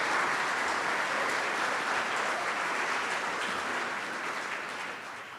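An audience at a fall academic conference applauding an author's book, a dense, even wash of clapping from many hands that holds steady and then begins to taper off at the end.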